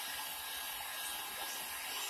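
Heat gun blowing hot air to warm PVC in cold weather, a steady airy whoosh with a constant motor drone, continuous and fairly quiet, with no talk.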